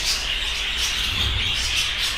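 A flock of home-bred budgerigars, around sixty birds kept together for sale, chattering and chirping continuously in a dense, bright overlapping chorus with no pauses.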